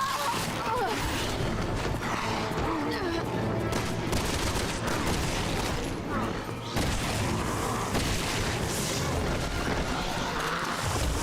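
Shotgun fire in Resident Evil 6, heard as loud, dense blasts and booms amid a chaotic soundtrack of noise and action, with a person talking over it.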